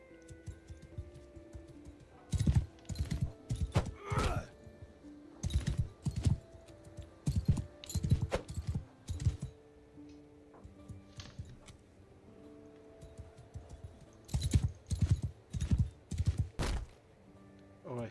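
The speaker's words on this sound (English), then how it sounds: "Oh, the horse can jump." Irregular bursts of horse hoof clip-clops in quick clusters from the video game Banishers, separated by short pauses, over a faint steady background with occasional tonal game sounds.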